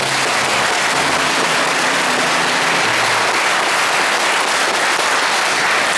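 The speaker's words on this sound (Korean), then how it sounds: "다 함께 큰 박수로 환영해 주십니다." Loud, sustained applause from a congregation welcoming priests at a celebration of a new priest's first Mass. The clapping is thick and continuous, with faint low sounds beneath it.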